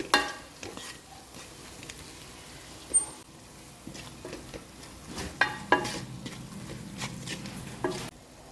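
Ginger, green chilies and chicken curry ingredients sautéing in a pan: a steady low sizzle broken by repeated scraping stirs and a few sharper clinks of the spoon against the metal.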